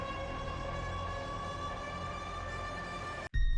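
An ambulance siren holds a steady, loud, layered tone that sounds close by, then cuts off abruptly just before the end.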